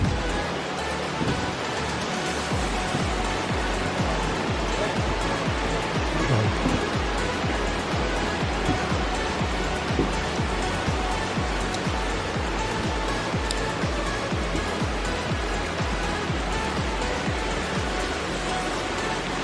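A natural waterfall pours in a steady, dense rushing roar, loud and unbroken for the whole stretch, with no talking.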